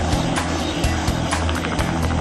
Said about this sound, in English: As the plane makes its final descent, Ted gives the stunt rider some last-minute instructions.